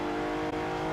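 A Jaguar XJ220 with a 3.5 litre engine, in a Forza racing game, holds a loud, sustained rev, a steady tonal engine whine with a momentary dip midway, heard alone.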